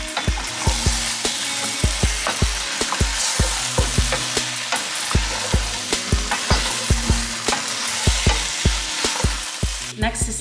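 Tomato paste stirred into a sizzling pan for a Greek green bean dish: a loud, continuous frying hiss with quick, rhythmic scrapes and clacks of the spoon against the pan throughout.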